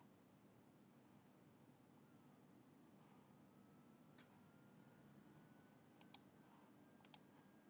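Computer mouse buttons click while a PLC program is uploaded in TIA Portal, with two quick pairs of crisp, faint clicks near the end after a long stretch of quiet room hiss.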